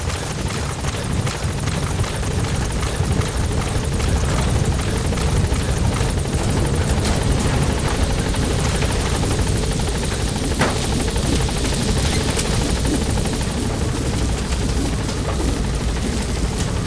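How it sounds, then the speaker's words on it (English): Support helicopter in Metal Gear Solid V arriving at a landing zone, its rotor a loud, steady, dense thrum with broadband wash that holds for the whole span, with no talk over it. "Support helicopter has arrived."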